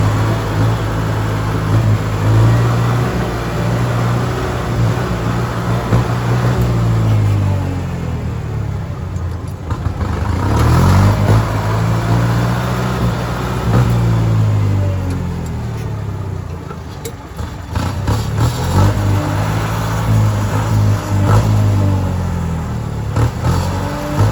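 A 2020 Kubota MU5702 tractor engine runs close by, a loud diesel rumble that rises and falls in several revving swells, with a steady low drone between them.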